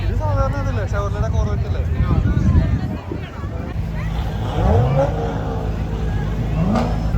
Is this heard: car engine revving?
yes